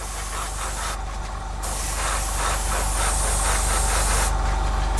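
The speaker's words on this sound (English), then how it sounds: "when spraying these lacquer based paints" A steady, loud hissing airbrush spray of lacquer paint on a 1/48 scale F-14D model kit runs continuously, with short breaks where the spray cuts out.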